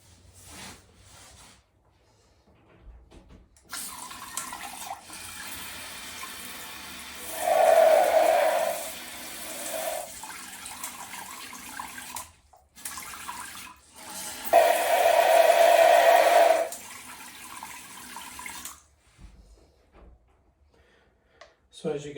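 Water sprays in two bursts from a bidet attachment mounted on a toilet seat, a steady hiss around eight seconds and again near fifteen, with quieter handling and running water between, close to the microphone.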